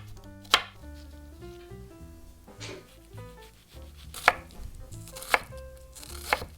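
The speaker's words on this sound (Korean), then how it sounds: "흰 양파 4분의 1개만 다져서 넣어줄게요" A knife chops a quarter of a white onion on a wooden board: a handful of sharp, irregular close knocks among quieter scraping and handling sounds, with no talking.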